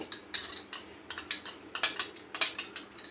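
A utensil stirs and scrapes inside a pot while mishti doi is being prepared, giving a quick series of bright metallic clinks and scrapes in an irregular rhythm, close and fairly quiet with no talk.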